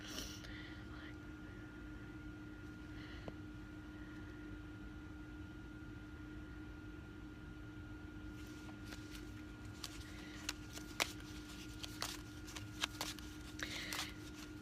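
A deck of oracle cards is shuffled by hand, soft and close, with a quiet continuous hum early on and crisper riffling clicks and snaps in the last several seconds, while faint voices murmur.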